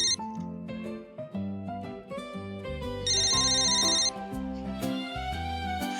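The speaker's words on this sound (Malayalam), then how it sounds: "ഫോൺ റിങ് ചെയ്യുന്ന" A phone rings with a bright, melodic electronic ringtone, a fast tune of repeating notes that plays continuously with a sustained high chime midway, clear and fairly close.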